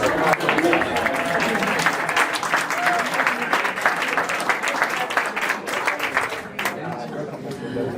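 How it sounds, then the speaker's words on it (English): Audience at a business networking event applauding themselves, loud sustained clapping with chatter beneath it that tapers near the end. "Give yourself an applause."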